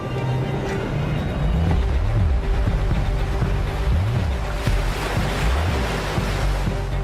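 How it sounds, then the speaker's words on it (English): Storm waves churn on the Sea of Galilee, a loud continuous roar of surf with gusting wind buffeting the microphone and low rumbling swells throughout. "a famous Israeli director, Moshe Alpert, captures one of the greatest storms ever recorded on tape in the Sea of Galilee."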